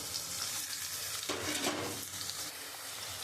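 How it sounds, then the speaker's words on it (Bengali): Fried rice with capsicum, raisins and cashews crackles in a hot pan, a constant close sizzle with a brief scraping stir partway through. "আমি একটুখানি আর একটু ভাজবো"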